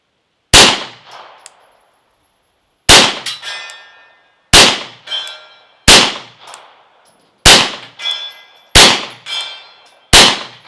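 Seven loud, sharp gunshots from a Ruger PC9 carbine firing subsonic 9mm rounds outdoors, spaced irregularly about one to two seconds apart, each with a short ringing decay and no talking.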